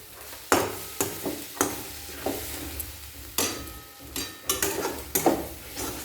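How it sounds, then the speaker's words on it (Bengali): Egg kochuri filling is stirred and fried in a pan, with irregular scraping clicks of a spatula against the pan over a soft, faint sizzle, alone without talk. "এরপর এভাবে নাড়াচাড়া করে নেব, ডিমের ঝুরি ভাজার মতন তৈরি করে নেব।"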